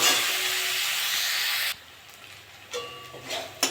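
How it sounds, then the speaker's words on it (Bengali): Prawns frying in a pan with onion and chilli give a strong, steady sizzle that cuts off sharply partway through, followed by quieter scrapes and a few soft knocks. "আমি এবার চিংড়ি মাছগুলো সব দিয়ে দেবো। এটা ভালো করে ভেজে নেবো।"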